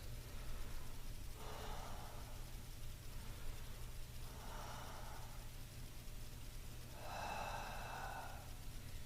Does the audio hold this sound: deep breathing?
yes